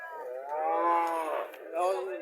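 A premium-breed heifer calf moos loudly close by, one long drawn-out bleating call followed by a shorter second one.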